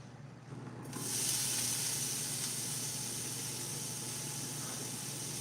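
Half a yellow onion hits a hot pan and sets off a sudden loud sizzle that holds steady as a bright, hissing sauté, with no talk over it.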